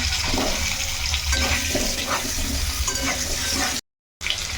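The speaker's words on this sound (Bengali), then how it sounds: "এখন এই তেলের মধ্যে আলুগুলো ভেজে নেব তো প্রথমে আলুগুলো দিয়ে দিলাম" Potatoes frying in hot oil in a pan, a steady, dense sizzle close up that continues without a break before cutting off briefly near the end.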